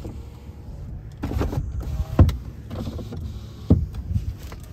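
Power windows on a 2015 RAM 1500 EcoDiesel 3.0 liter four-wheel-drive pickup whir up and down in several runs, each motor hum ending in a soft thud as the glass seats, close and clear inside the cab.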